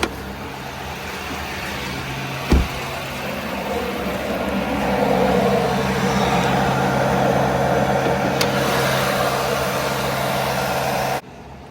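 A running truck engine that won't shut off idles steadily with a low, continuous rumble and hum, swelling slightly midway, with a brief knock early on and no speech.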